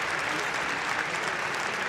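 Basketball crowd at a Michigan Wolverines versus Kentucky Wildcats men's game applauding steadily, a dense, even wash of clapping from fans of both teams with no pauses.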